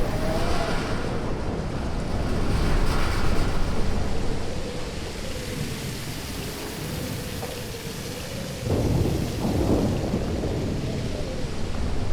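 Thunderstorm in the video game Life is Strange Remastered: a steady roar of heavy rain and wind with deep rolling thunder swelling throughout, loud and continuous, with no talking.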